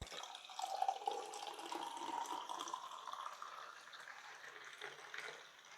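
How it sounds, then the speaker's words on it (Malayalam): Honey is poured into a glass of juice with a faint, close, steady liquid trickle and a few soft drips. It is quiet throughout, with no talking. "നല്ലപോലെ ഒരു ഗ്ലാസ്സിലിട്ട് ഒഴിക്കാം"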